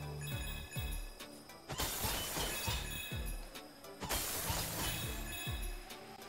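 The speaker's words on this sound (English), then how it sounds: "Ice shattering good." Ice shattering in the video game Astro's Playroom, two loud crashing bursts of breaking ice and glassy tinkles over busy game music and sound effects.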